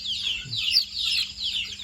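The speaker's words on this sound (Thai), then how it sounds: "ไก่น้อยไก่ลาดหรือว่าไก่พื้นเมืองนี่แหละพี่น้อง ตัวอ้วนๆเลย" Several four-week-old chicks and native Thai chickens make close, repeated high cheeping in a steady rhythm, with one brief low cluck partway through.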